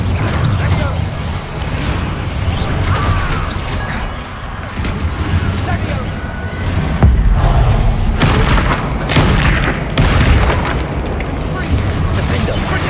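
Bombarda spell explosions in the video game Hogwarts Legacy sound as loud, repeated booms and crashing impacts amid heavy combat noise, with a voice talking over the action.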